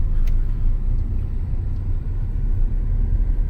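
A Hyundai i20 petrol car cruises in third gear with the air conditioning on, heard from inside as a low, steady road-and-engine rumble with no one speaking.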